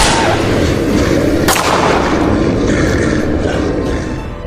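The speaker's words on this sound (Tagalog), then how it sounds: "Pinaputukan ko ng baril ang mga nagtatangkang lumapit sa kinaroroonan namin." Gunfire from a firearm shot at attackers approaching a site: a loud, close burst of reports with a sharp crack near the middle, echoing and fading toward the end.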